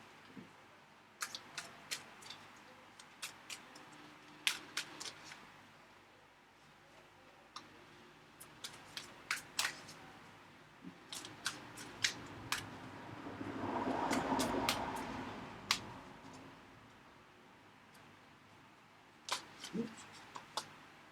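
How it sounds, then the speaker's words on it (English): Chinese Tarot cards taken out and handled, a scattered series of faint close clicks and taps with a soft rustling shuffle in the middle, quiet and otherwise still. "Just getting the cards out."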